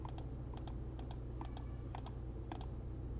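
Mouse clicks on the new slide button in PowerPoint: crisp, close clicks mostly in quick pairs, repeated about six times at a steady pace over a low constant hum.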